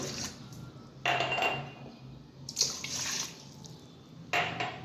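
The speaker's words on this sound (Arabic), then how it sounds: "هحط كوبايتين مية" Two cups of water are poured into a bowl for croissant dough, heard as three short, fairly quiet splashing bursts with faint clinks of the cup against the bowl.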